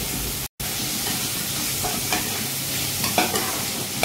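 Tomato gravy for fish curry being stirred in a pan, a steady close sizzle with scraping spoon strokes and a brief dropout near the start.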